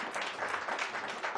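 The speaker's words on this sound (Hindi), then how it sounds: "ताली बजाकर धन्यवाद करें।" A church congregation claps during a sermon, steady sustained applause with no voices on top.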